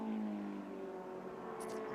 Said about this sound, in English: Marcus at the wheel of the Silver Phoenix, of course, several of those Silver Phoenixes racing in this championship